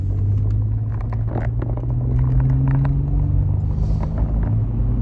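A Toyota FJ Cruiser with a 4-liter V6 engine accelerating, giving a steady low rumble with a rising tone, heard from inside the cabin, moderately loud with no speech.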